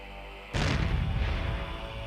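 A black powder blast goes off suddenly after a low steady hum, a loud close boom whose rumbling roar slowly fades over about a second and a half.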